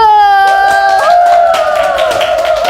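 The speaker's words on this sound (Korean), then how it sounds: "우리 박수 한번 쳐보실까요?" A seated audience at a Korean laughter-therapy class claps along under a loud, sustained tonal sound that slides and shifts pitch, the hand claps scattered and fairly light.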